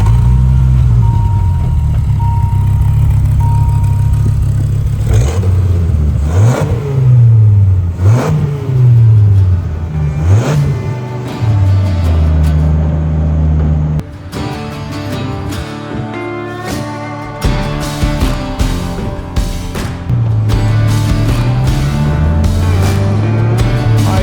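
A 1993 Dodge Viper RT/10 V10 engine starts with a roar, then revs up and down several times, loud and close, rumbling deeply between blips.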